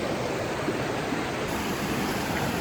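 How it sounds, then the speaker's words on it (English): Water rushing in a mountain stream near a hillside trail in Kings Canyon, a steady broadband hiss and roar that stays constant and fairly close, with no voices. "He likes the noise of the water."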